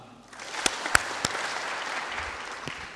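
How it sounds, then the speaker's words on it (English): An audience at a general assembly claps together, starting with a few sharp individual claps and swelling into a dense, even round of applause. "Let us give him a clap."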